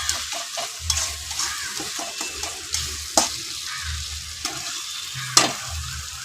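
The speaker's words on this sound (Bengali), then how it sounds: "এবার দিয়ে দেবে পরিমাণ মতন লঙ্কার গুঁড়ো। এটাকে দিয়ে একটু ভেজে নেবে।" Chili powder frying in a spice paste after the masala has been cooked down, with a steady close sizzle, scraping stirs and several sharp clinks of a spoon against the pan.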